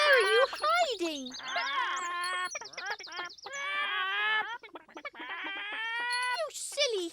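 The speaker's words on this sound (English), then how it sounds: "You silly hens! Why have you flapped up there?" Cartoon hens in Toyland clucking and squawking in busy overlapping bursts, close and lively, with a rooster-like cry near the end.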